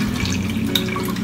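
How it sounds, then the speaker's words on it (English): Water transferred between two plastic food storage containers on a kitchen counter, a steady trickling and splashing pour lasting briefly without speech. "let's open this up and transfer that water over"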